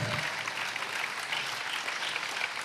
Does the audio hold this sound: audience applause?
yes